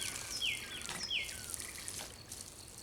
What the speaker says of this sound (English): we are gonna give them a nice little initial drink of water